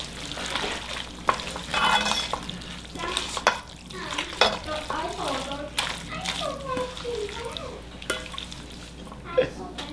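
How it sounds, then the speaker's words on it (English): Beef ragu is stirred in a pan, a busy mix of scraping and gentle sizzling, with voices, including children's, talking over it the whole time. "Stir this all together"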